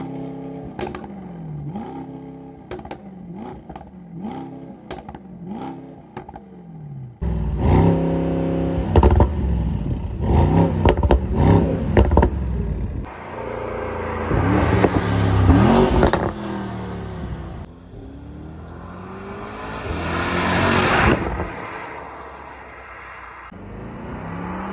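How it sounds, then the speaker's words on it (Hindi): A 2023 Mercedes-Benz SL63 AMG, a 577 hp car, revs up in a string of sharp short blips, then holds longer roaring revs and a loud swelling exhaust note nearby, with no talking. "Exhaust note, and listen to that."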